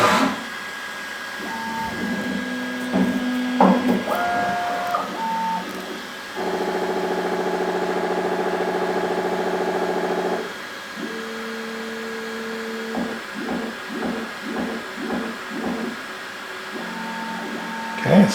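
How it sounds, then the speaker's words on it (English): A Bambu Lab X1 Carbon 3D printer wiping its nozzle gives stepped motor whines and short mechanical bursts, with one long steady drone in the middle, fairly close and without talk. "There's wiping the nozzle again."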